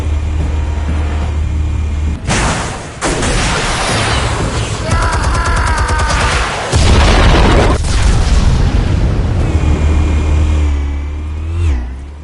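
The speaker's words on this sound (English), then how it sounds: "Explosives armed. Fire when ready." Explosives go off in a Batman action video game, with loud booming blasts, crackling debris and rumbling impacts layered over a low engine-like drone and game music, filling the whole stretch at high volume.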